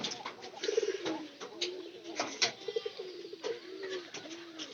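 Pigeons coo softly in a series of low, rounded calls that rise and fall at an unhurried pace, with a faint background hiss and no talking.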